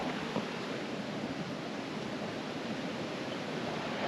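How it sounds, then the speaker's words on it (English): A small waterfall pours steadily over rocks at a dispersed campsite in Wyoming, a constant broadband rush of falling water heard close and without pause, with no voices. "I want to show you that little waterfall from here."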